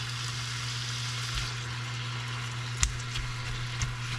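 Ground meat for tacos sizzles steadily in a pan, a constant close frying hiss with a low hum beneath and a few faint clicks and taps from stirring; no talking.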